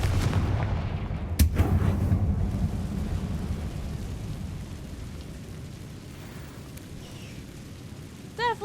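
Fiery Confringo spell blasts in Hogwarts Legacy, a loud rumbling explosion with a sharp crack early on, then a long, low roiling boom that slowly fades, with a brief ringing chime at the end.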